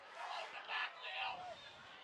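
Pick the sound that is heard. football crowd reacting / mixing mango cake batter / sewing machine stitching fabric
football crowd reacting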